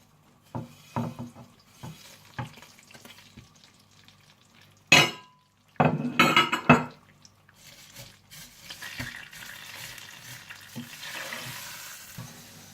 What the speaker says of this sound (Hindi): दूसरी तरफ आप देसी घी गर्म कर लीजिए और इसमें सेवइयों को हल्का सा ब्राउन कर लीजिए